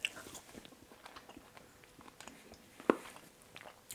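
Someone chews a bite of smoked brisket flat, close and fairly quiet, with soft repeated wet mastication sounds and one sharper click or crunch partway through.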